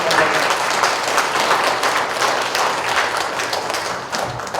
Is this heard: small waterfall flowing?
no